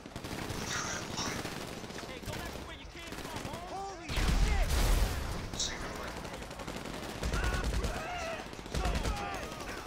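Bursts of automatic gunfire and scattered shots in GTA 5 Online, dense and continuous with louder volleys near the middle and end, while players talk over the shooting.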